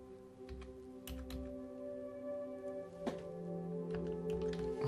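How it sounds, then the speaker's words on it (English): Keys tapped on a Tandy Color Computer 3 keyboard, a few scattered clicks over a steady electronic hum with tonal bands, fairly faint and without talk. "So we'll type in Kalgoorlie there."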